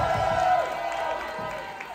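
A studio audience cheers and applauds for a drag contestant leaving the stage after a bottom-two lip sync, a steady crowd roar with whoops throughout.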